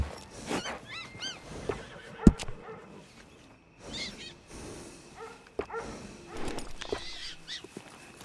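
A horse in the Western game Red Dead Redemption 2 whinnies in several harmonic bursts among scattered clops and thumps, with a sharp knock midway and a busy outdoor ambience throughout.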